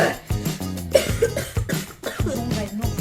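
A person coughs several times in quick, uneven bursts, close and loud, with throaty rasping between the coughs and no speech.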